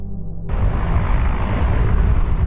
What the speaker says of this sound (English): The sound of rushing water is drowned out by helicopters sent from Israel